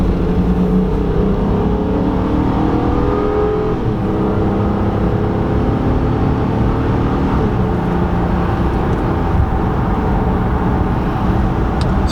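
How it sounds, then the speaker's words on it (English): A 2018 Honda Ridgeline pickup with its stock exhaust pulls up an on-ramp onto a 60 mph highway, giving a steady, muffled engine drone mixed with road and wind noise, with no voices. "just a normal acceleration on an on-ramp turning onto a 60 mile per hour highway"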